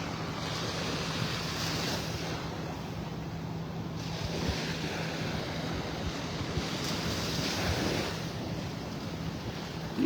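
Waves wash onto Vanderbilt Beach in North Naples, Florida, on an early morning, with a continuous surf roar and wind rushing over the microphone, swelling and easing over several seconds.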